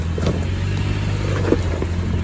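A V6 off-road vehicle works its way slowly over uneven ground, wheels lifting as it climbs. Its engine holds a steady, close, low drone under throttle, with no talk.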